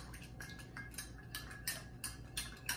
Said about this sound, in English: I'm just going to hold it lightly in my hand and stir around the edge and let that cocktail spoon kind of spin in my fingers